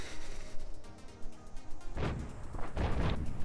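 A tank cannon fires in the video game World of Tanks, from an IS-6 or ISU-152 heavy tank, with two or three heavy booming blasts in the latter half over steady in-game engine rumble.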